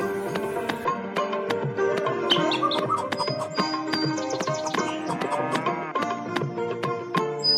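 A cow named Lakshmi lowing repeatedly amid a busy, layered mix of other sounds, with bird chirps and tweets scattered through and no one speaking.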